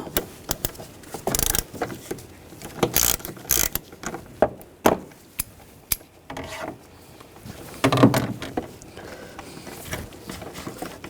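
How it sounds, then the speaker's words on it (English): Ratchet turning a 5mm hex socket to loosen a screw on a 2009-2017 Volkswagen Tiguan engine, heard as scattered clicks and short bursts of metallic ratcheting at close range. "Now I'm going to use a 5mm hex socket. Take this screw out."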